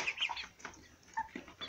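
Pullets about 75 days old, young chickens being raised on a small farm, cluck and peep softly in short, scattered calls over a quiet background.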